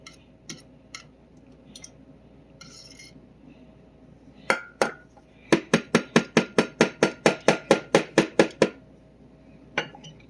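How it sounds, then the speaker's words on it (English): A spoon clinking against a pot of simmering homemade mustard, a few scattered taps and then a quick regular run of about a dozen bright metallic knocks, close and crisp over a quiet background. "I'm just going to grab a spoon and I'm just going to stir it from time to time."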